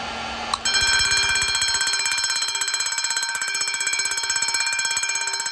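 A mechanical fire alarm bell set off with a heat gun rings loud and close in a fast, continuous metallic clatter, starting abruptly and ringing on without pause.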